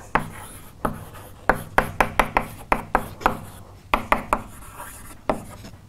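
A lecturer writes on a board in a lecture hall, producing quick bursts of sharp taps and scratchy strokes in an irregular rhythm, heard close and alone without speech.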